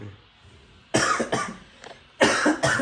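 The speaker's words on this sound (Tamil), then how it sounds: "என்ன இருமல் வருது பேசுறதுக்கு முன்னாடி" Several harsh coughs close by: a pair of coughs, a pause, then another pair, with quiet room tone between them.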